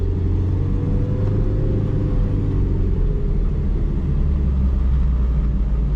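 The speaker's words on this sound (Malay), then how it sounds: "jaga-jaga kereta jalan" Proton Saga 1.3 FLX automatic from 2014 pulling away, a steady low engine rumble that holds loud and close throughout with slight revving, no voices.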